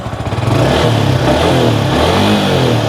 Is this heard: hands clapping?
no